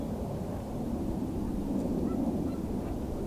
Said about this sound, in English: Here we go, the snow geese.